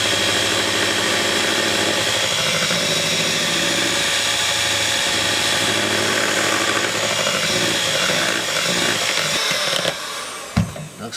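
An electric mixer beats lumpy cheesecake brownie batter in a bowl, a steady loud motor whir that runs continuously, then is joined near the end by a few knocks and scrapes.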